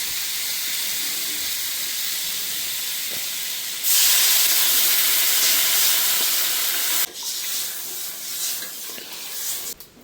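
Water poured into a hot pan of fried pumpkin sets off a loud, sustained steam hiss that suddenly bursts up, holds for several seconds, then eases into a softer sizzle with faint clatter.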